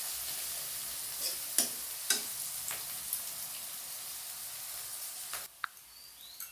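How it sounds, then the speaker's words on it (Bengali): Onion and garlic frying in a pan for a mutton and potato curry, a soft steady sizzle with a few sharp ticks and stirring scrapes, close and fairly quiet, cutting off near the end. "পেঁয়াজ আর রসুনটাকে আমি খুব ভালো করে কষিয়ে নেব"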